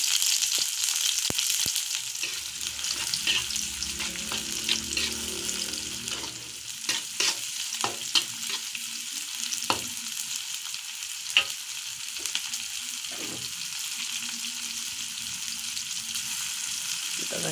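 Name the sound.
sautéing spice paste in a pan while stirring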